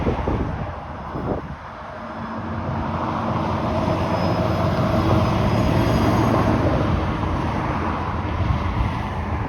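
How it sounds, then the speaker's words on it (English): A deep, steady rumble builds and holds as a subway train pulls into the station, with a faint high whine and airy hiss layered over the low roar. "And here comes the trains."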